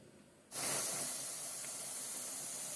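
Steam vents from a pressure canner on a foldable gas stove with a sudden onset of loud, steady hiss that keeps going without a break for the rest of the clip.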